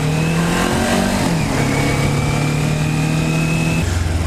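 Kawasaki Ninja 400 motorcycle with a slip-on exhaust, engine loud and close, its pitch rising and shifting as it pulls through the revs on a short cold ride.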